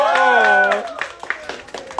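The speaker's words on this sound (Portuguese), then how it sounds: "Essa salva de palmas," A round of clapping for a young boy in a studio audience. It starts under an excited voice, then continues as a sparse, uneven patter of claps with a few louder slaps.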